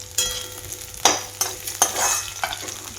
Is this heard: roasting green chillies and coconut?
yes